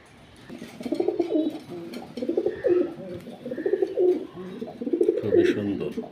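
A pair of Giribaz velvet pigeons, one male and one female, coo repeatedly in soft, throaty rolling phrases, close and steady across the whole stretch with no talking.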